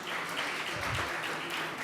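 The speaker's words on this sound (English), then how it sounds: "Men, let's clap for all the ladies here." An audience at a women in fintech summit applauds the women present, a steady wash of many hands clapping at moderate volume throughout the short stretch, with no distinct voices above it.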